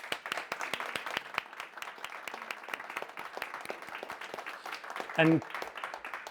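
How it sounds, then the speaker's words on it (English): Applause at the close of a technology regulation panel thanks two speakers: a thin scattering of individual claps in a small room, distinct and uneven, with a brief spoken word and a short tonal blip near the end. "I would like to thank, of course, our two speakers with a big round of applause."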